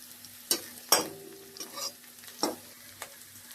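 Onions fry in a pan for a dhaba-style methi masala, soft sizzling broken by several sharp scraping stirs of a spatula against the pan, fairly close and quiet.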